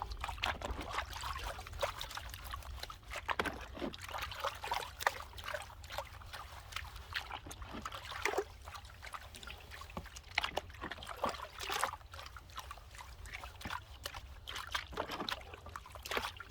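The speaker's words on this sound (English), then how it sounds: "I'm kind of glad I'm doing it by panning it by hand here" Clay-heavy desert soil samples being panned by hand in water, with steady trickling, sloshing and pouring sounds and irregular splashes close by, no talking.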